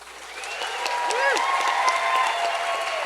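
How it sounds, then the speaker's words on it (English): An audience at a storytelling showcase event applauds steadily, with cheering and voices rising over the clapping as it swells slightly midway. "Let's have a final round of applause."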